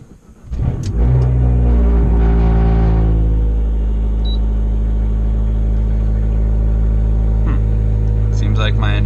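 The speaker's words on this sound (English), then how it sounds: "Start the engine, press OK to continue." An Abarth car engine cranks and fires, flares briefly, then settles into a steady, loud idle that holds close by with a few faint clicks over the top.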